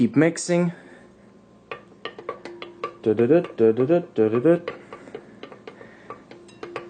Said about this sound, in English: So we're gonna keep mixing.